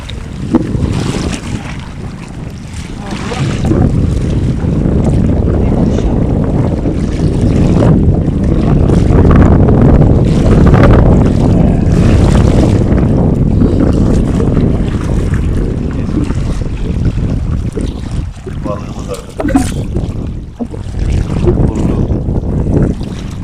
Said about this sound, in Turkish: Rüzgar esiyor.